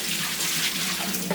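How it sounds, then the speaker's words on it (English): Dirty water from the tank of a Hoover Smartwash Pet Complete carpet cleaner is dumped out in a close, steady, splashing gush that runs without a break and is heard alone. "all the water gets dumped out"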